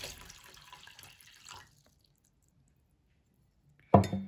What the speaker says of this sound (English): I'm gonna pour most of the water out of the first one